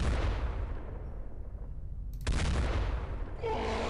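Heavy gunfire and booming shots from the tactical strategy game The X-COM Files, a dense rumbling barrage with a sharp new burst partway through, loud and continuous with no talk.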